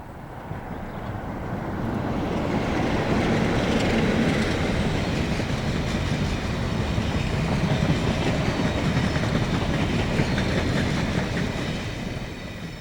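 British Rail Class 33 diesel locomotives run between Purley and Salfords, a steady, loud rumble of passing train with rhythmic wheel clatter over rail joints and occasional faint squeal, continuous throughout.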